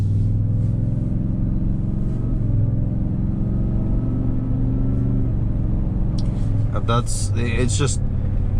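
775HP Ford Shelby truck with a massive blower, its engine on light throttle; a steady deep rumble loud and continuous from inside the cab, with a brief higher whine near the end.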